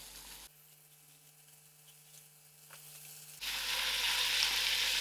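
Biryani dhal going into a pan of fried cabbage: a faint low hum and a brief clatter, then a loud close sizzle bursts up and holds steady to the end.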